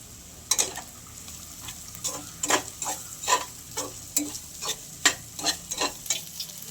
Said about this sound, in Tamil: இப்போ சாதத்தை கொட்டி கிளறிக்கலாம்.